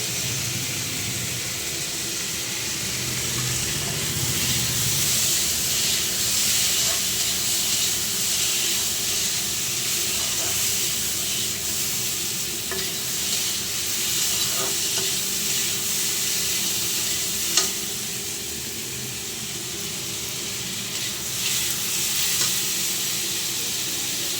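Ridge gourd and potato frying in a pan, a steady close sizzle and hiss with occasional stirring scrapes and faint clinks, continuous and fairly loud throughout with no talking.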